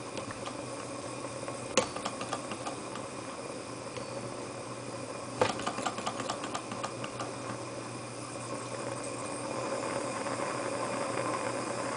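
Torch hisses steadily while heating a Grizzly H8102 Stirling engine, a constant close rushing noise broken by a couple of sharp clicks.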